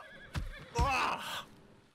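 A horse in the Red Dead roleplay game WildRP gives a short snort, then a loud, quavering whinny lasting about half a second, heard close and fairly clear against quiet background.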